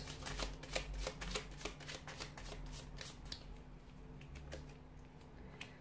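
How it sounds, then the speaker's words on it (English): A deck of tarot cards being shuffled up close, a rapid series of crisp riffling flicks and snaps, quiet and dry with a faint background hum. "let's give the cards a shuffle"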